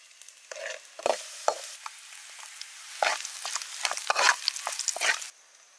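Mustard seeds and cumin crackle in hot oil, with sharp pops and a bright sizzle in uneven bursts, heard close and without talk.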